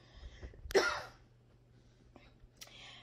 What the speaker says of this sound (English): I'm having to constantly clear my throat.